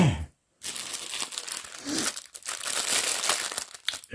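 A diamond painting kit being unwrapped from its plastic packaging, close and loud crinkling and tearing of plastic that runs almost continuously after a brief pause at the start.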